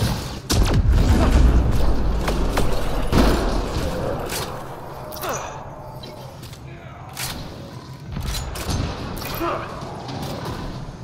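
Gunfire in the sci-fi shooter game Mass Effect: Andromeda, with sharp shots and booming impacts scattered across the scene, loud at first and then thinning out, while a voice talks intermittently.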